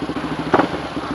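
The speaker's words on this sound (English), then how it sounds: "I like that exhaust sound, though." A 2013 Suzuki DRZ400SM motorcycle rumbling with a steady pulsing exhaust, one louder throttle blip midway, close by.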